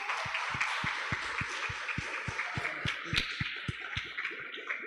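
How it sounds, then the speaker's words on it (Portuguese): A church congregation at a Sunday family service claps along in a steady rhythmic beat, quick regular hand claps continuing throughout, moderately distant with a faint wash of room sound behind them. "Aplauda Jesus."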